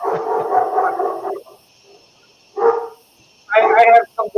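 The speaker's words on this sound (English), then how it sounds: "You got the dogs all upset." Dogs bark in a few loud bursts separated by brief pauses, sounding close and somewhat muffled, as if picked up over a call or through a room.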